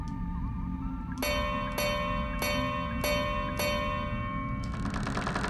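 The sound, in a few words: bell ringing in the video game Crow Country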